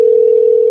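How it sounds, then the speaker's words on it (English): A telephone dial tone sounds while a phone call is being placed: one steady, loud, unbroken tone held for under a second, alone. "So let me make a phone call."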